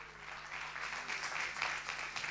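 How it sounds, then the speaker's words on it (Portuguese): Church congregation clapping in praise to Jesus, a faint, steady patter of many hands heard from a distance over a low background hum. "Uma salva de palmas a Jesus."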